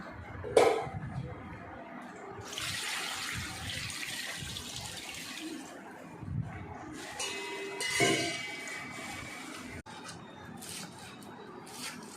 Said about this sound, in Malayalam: നമുക്ക് ചീര വൃത്തിയായിട്ട് കഴുകിയെടുക്കാം